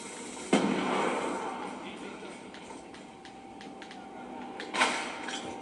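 A grenade blast in Call of Duty Black Ops II on the Wii U, a sharp explosive burst followed by a rumbling tail, then a second boom a few seconds later amid ongoing game noise.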